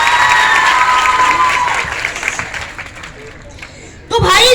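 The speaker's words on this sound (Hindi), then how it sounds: "जो अच्छा लगा तो एक बार फिर तालियां बजाएं।" A crowd at an annual school prize distribution in Orangi Town claps loudly, with some cheering and a whistle-like tone over it. The applause tapers off gradually, then a sudden loud burst comes at the very end.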